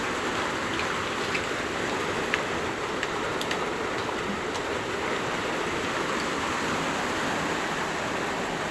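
Rainwater dripping and splashing indoors through many holes in a leaking house roof during heavy rain, a constant hiss of rainfall with scattered sharper drips, no speech.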